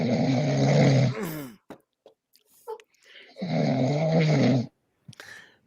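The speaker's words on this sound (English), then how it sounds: "bats snored quite so loud." Loud snoring attributed to bats, heard as two long, deep, rasping snores separated by a pause holding small clicks and murmurs, close and prominent, with a brief soft sound at the end.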